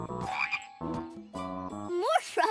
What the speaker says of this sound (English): More frogs on a log